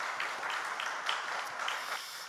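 A church congregation applauds the youth group after their special song during a Sunday afternoon service: steady, fairly faint and distant clapping that lasts the whole moment, with no talk over it.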